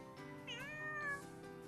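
A cat gives a single drawn-out meow that rises and then bends downward, heard close against a quiet background.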